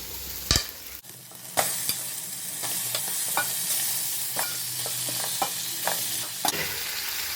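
Washed fish pieces being stirred together with ginger, turmeric and chopped small onion for a fish pulusu: a steady close hiss broken by scattered scraping strokes, with no talking.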